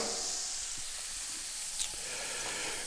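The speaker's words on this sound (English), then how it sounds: "Give it a nice, good little sizzle" A pork chop sizzles in a hot pan, giving off steady close hiss and crackle with small pops, and a brief sharper spatter partway through.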